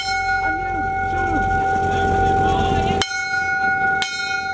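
A ship's bell on the wooden sailing vessel Lady Nelson is struck by crew at a boat festival in Hobart, sustained ringing tones layered over crowd chatter and voices, with two sharp loud strikes near the end.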